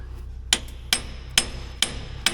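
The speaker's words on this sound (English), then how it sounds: "You want me to hold a hammer while you hit it with another hammer?" Five sharp metallic hammer blows ring out at a steady, roughly half-second rhythm against the undercarriage track of a Northwest 41 dragline, close and loud over a low engine rumble.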